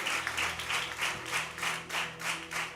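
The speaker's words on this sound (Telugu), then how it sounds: "ఒక్కసారి ఆయన నోటి మాటలో శక్తి ఉందన్న ప్రతి ఒక్కరూ చప్పట్లతో ఆయన ఆరాధిస్తారా?" A church congregation claps together in steady rhythmic bursts, the applause swelling and fading in regular waves throughout, fairly close and full.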